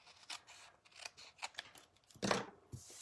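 Scissors snipping through a paper strip while trimming a Christmas tag from scrap paper, a series of quiet crisp cuts ending in one longer closing snip, close and soft with no talking.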